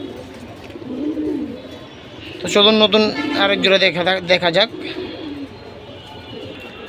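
Pigeons from a fancy silver-line breeding collection coo softly in low, repeated murmurs, partly under someone talking close by.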